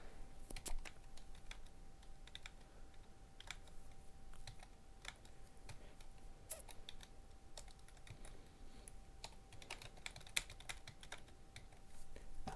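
Steady, close computer keyboard typing during a game development livestream, a continuous patter of quiet key clicks over a faint background hum.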